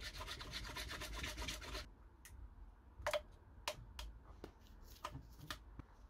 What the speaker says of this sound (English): I had to cut it with a rasp